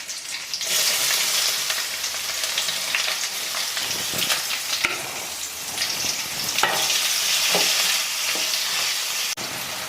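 Onions sizzle steadily in hot oil while being tempered for masala idly, a continuous close, loud frying hiss with occasional stirring scrapes and clicks throughout.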